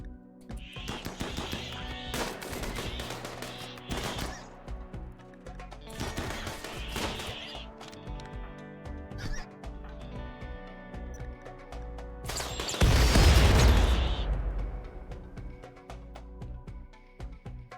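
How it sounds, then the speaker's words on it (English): Rocket launcher fire in the game Rimworld: a triple rocket launcher unloads in a loud burst of blasts and crashes near the end, after scattered rapid gunfire earlier on. "They just used a triple rocket launcher on one of their own people."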